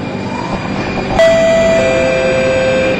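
A train's door-closing chime sounds clearly at the platform stop, a sharp onset followed by two sustained electronic tones, over steady carriage rumble and hum.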